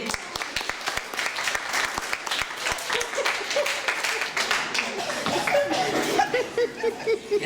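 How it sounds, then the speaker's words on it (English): An after-prom hypnotist show audience at a high school breaks into loud, dense, sustained applause lasting the whole stretch, with chuckles and laughter scattered through the clapping. "And a nice round of applause."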